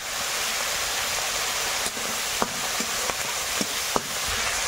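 Panch phoron, bay leaf, onion, and garlic and ginger paste frying in oil in a wok, a loud continuous hiss with occasional soft spatula taps.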